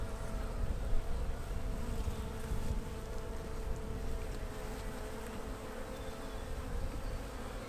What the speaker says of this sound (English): lots of brood and lots of bees as well. The box is full of bees at the bottom.